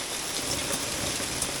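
Heavy rain and hail storm, a dense continuous roar of rain with occasional sharper hail hits, close and loud throughout the short stretch.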